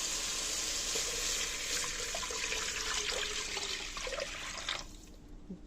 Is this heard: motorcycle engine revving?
no